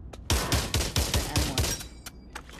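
Rapid rifle shots from an M1 Garand in the VR shooter game Pavlov Shack, a burst of about eight loud, close reports in quick succession followed by a couple of isolated shots and a brief ringing ping.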